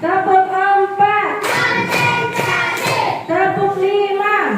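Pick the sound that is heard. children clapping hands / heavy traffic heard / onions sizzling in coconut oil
children clapping hands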